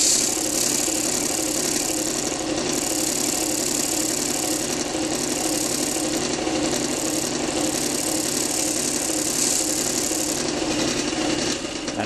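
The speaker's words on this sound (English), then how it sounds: "I just sand my banding up to that line" Power sander smoothing wood inlay banding up to a 45-degree line set by a small fence, a steady, loud motor whir running continuously and close without a break.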